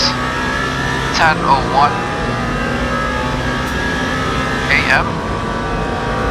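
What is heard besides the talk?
race car engines in video game Le Mans Ultimate, LMP2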